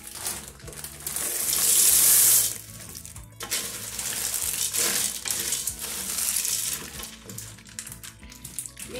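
Dry penne pasta, about 500 grams, poured into a pressure cooker, a loud rattling cascade of hard pieces hitting metal, then continued clattering and shuffling as the pasta settles and is stirred.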